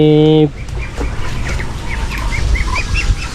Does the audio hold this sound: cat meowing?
no